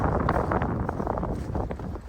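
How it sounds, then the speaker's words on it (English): Wind blows by the Rhine River in Duisburg, Germany, on a cold January day, a low, rumbling steady rush on the microphone with slight gusty swells and no speech. "The wind is gently blowing,"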